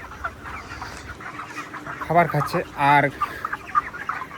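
Farm chickens in a village poultry shed cluck while pecking at feed, with two louder nearby clucks mid-way over a low background murmur and a brief spoken word.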